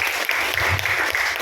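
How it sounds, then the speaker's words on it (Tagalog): A congregation at a church sermon bursts into a brief, steady round of applause, close and full, lasting just over a second. "Mahina yung palakpak."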